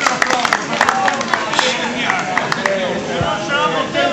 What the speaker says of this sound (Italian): un applauso al signore.